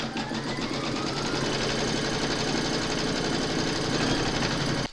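An embroidery machine stitching the second round of an Anzac poppy mug rug, a loud, close, steady rapid mechanical whir with a constant fast pulse that continues unbroken until it stops abruptly at the end.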